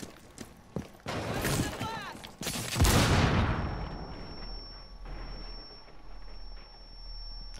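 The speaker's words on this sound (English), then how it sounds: "Who's already shooting now?" Gunfire in the Rainbow Six Siege video game, a burst of loud sharp shots and a big blast-like surge near the middle, followed by a lingering rumble and a steady high tone.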